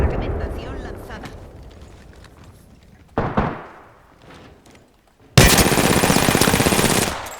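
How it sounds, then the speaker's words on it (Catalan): Gunfire in the video game Apex Legends: a fading burst of shots, a sharp crack with a decaying tail, then a loud rapid automatic volley near the end, with voices talking between bursts. "Estoy recibiendo disparos."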